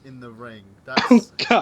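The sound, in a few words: sneeze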